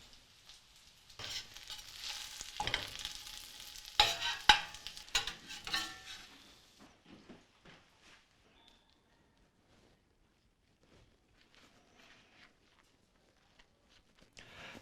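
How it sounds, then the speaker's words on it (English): Carrot and white bean veggie burgers searing in a pan, a crackling sizzle with a few sharp pops and scrapes early on that thins out to faint, sparse ticks as the frying quiets down. "Cook them for about 3 to 5 minutes on each side until they're seared and nicely colored on both sides."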